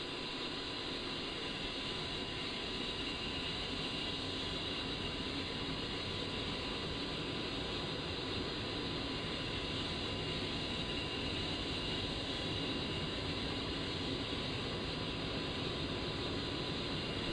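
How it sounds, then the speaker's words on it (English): Jet engine of an A-10C in DCS World spooling up during cockpit start-up, a continuous steady whine and broadband roar with a fixed high tone, even and unchanging in loudness, no voices. "As the engine spools up"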